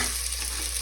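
Onions dropped into melted ghee for chicken kabsa fry with a dense, even sizzle that fills the short moment, close and steady, with no voices.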